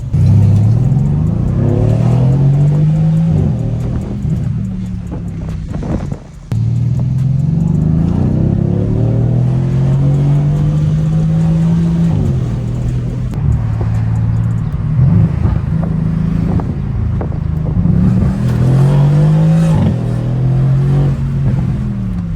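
Mercedes C63S with its mufflers cut off, revving hard through repeated rising pulls with loud raspy engine drone and gear changes, close and continuous with no talk.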